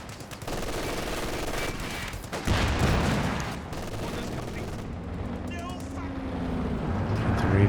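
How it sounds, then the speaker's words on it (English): Rocket artillery fires in a Company of Heroes 2 battle as a booming barrage of rapid blasts, joined by other gunfire and explosions. It is loud and dense, and a voice talks over the combat. "Big rocket artillery out the back."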